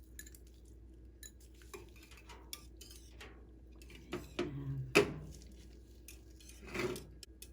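Spoon stirring and crushing gelatin into a hot ube halaya mixture in a pot, light clinks and scrapes of metal on cookware, sparse early and busier near the end, fairly quiet.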